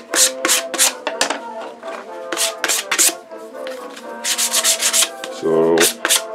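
Sandpaper roughening the smooth edge of a masonite board, heard as repeated close, raspy back-and-forth strokes in irregular bursts, with a short lower scraping stretch near the end.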